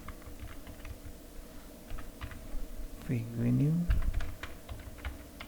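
Fingers type the ipconfig renew command on a computer keyboard: a quiet run of light key clicks, with a voice speaking briefly partway through.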